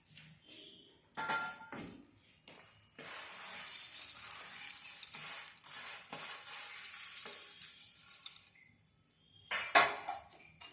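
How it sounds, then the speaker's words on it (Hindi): Mixed namkeen with green boondi is tossed and stirred in a pan off the heat, making dry rustling and scraping bursts with clinks of a spoon on metal, louder in spurts with quiet gaps. "अच्छी तरह से हमको इसको मिक्स कर देना है।"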